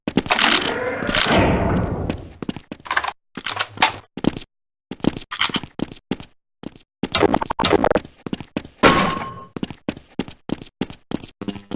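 Weapons fire at a target range in the Half-Life: Blue Shift video game, with loud bursts of gunshots and sharp single cracks, broken by short gaps and mechanical reload clicks, close and without talk.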